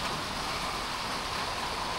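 Rain pours onto a roof fitted with newly installed metal flashing, making a steady, dense hiss that stays even and loud throughout, with no voices.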